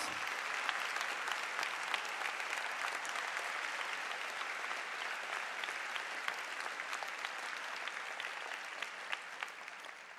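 A large audience at a graduation ceremony for education and arts graduates applauds steadily, a dense and even patter of many hands, moderately distant and sustained without a break.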